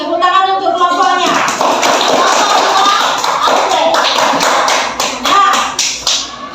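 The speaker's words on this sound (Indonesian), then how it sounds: "Tepuk tangan untuk kelompoknya" Schoolchildren clapping for a classmate group in a classroom, a dense, loud burst of many small hands that thins out toward the end, with voices mixed in.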